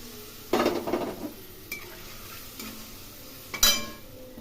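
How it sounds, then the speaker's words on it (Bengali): Grated ginger and chilli frying in a pan for a potato fritter curry, with soft sizzling under a few distinct stirring and clinking scrapes of a utensil against the pan, close and fairly quiet, no talk. "এর মধ্যে গ্রেট করে রাখা আদা এবং লঙ্কা দিয়ে দিলাম।"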